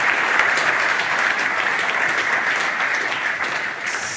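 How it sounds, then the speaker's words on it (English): Audience applause for a speaker at a Christie's Zürich talk, a steady dense clapping from a room of people that holds evenly for about four seconds before thinning slightly at the end. "An applause for him."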